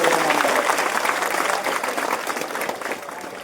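Dense applause from a crowd at a school religious procession event in Muzaffarnagar, a steady wash of many hands clapping that fades slightly toward the end.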